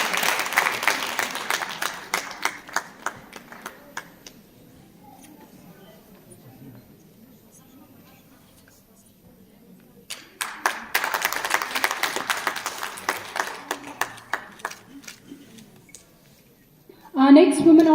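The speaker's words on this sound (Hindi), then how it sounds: "इनके लिए जोरदार तालियां." Audience clapping at an International Women's Day celebration in two bursts, the first tapering off into a quiet stretch, then a second round of applause, followed by a voice at the end.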